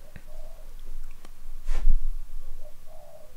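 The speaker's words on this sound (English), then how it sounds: "The frickin' pigeon's back!" A pigeon coos outdoors in soft, low, rounded calls, a few separate phrases spread out over a few seconds, with a brief louder thump partway through and no talking.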